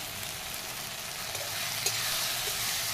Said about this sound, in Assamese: তেতিয়া অকণমান সময় এনেকৈ লৰাই ভাজি ল'ম।